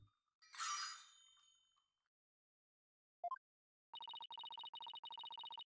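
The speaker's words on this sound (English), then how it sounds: "Oh, I hear the sound of the High Priest's footsteps." Game sound of a high priest's ceremonial footsteps with ankle bells: a burst of jingling, a short blip, then a run of bright, evenly spaced ringing chimes, clear and alone against silence.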